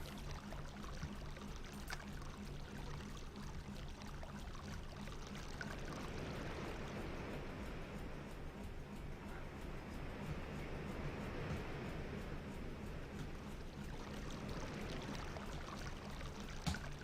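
Steady, continuous rush of running water in the Selenitic Age of the video game Myst, an even broadband wash that holds at a moderate level for the whole stretch with no voices.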